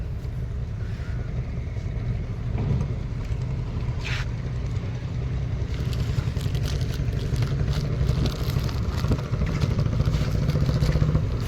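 A steady low motor drone runs throughout, close and continuous, with faint clatter and water noise on top, like a small boat engine idling or cruising.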